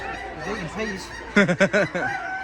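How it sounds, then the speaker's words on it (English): Geese at an autumn agricultural show give a short run of four loud, close honks after a stretch of quieter background calling, with people chatting nearby. "Goose and a gander."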